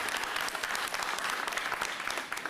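A room of reporters claps at a New York City mayoral press conference on bike safety, producing a continuous, even wash of hand claps at moderate loudness with no voices over it.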